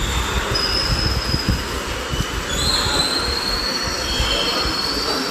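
A train at Kottayam railway station rumbles steadily close by, its wheels squealing in long, high, drawn-out tones above a continuous low clatter, with no voices.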